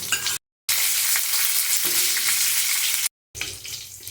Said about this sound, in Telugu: పచ్చిమిర్చి కూడా వేసుకుని బాగా ఫ్రై అవనివ్వాలి